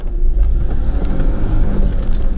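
A Jeep engine labors and revs as it climbs a steep, muddy mountain trail: a loud, close, low rumble that surges unevenly, mixed with wind buffeting the microphone.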